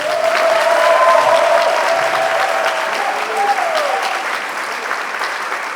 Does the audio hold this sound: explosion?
no